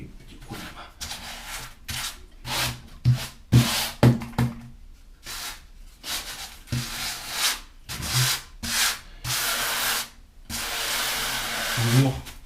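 A float or sponge rubs diagonally across tile grout joints, a series of close, rough scraping strokes in bursts with short pauses and a few knocks, no speech.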